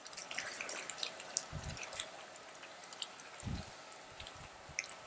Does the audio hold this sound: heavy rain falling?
no